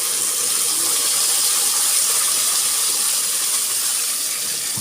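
Ground masala paste sizzles in hot oil in a pan on the stove, a steady, loud, continuous hiss with no break and no voices.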